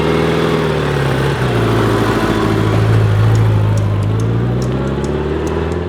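A Honda GL1200 motorcycle engine runs with a loud, close, steady hum that dips and rises slightly as the revs shift, with some light ticking at the end.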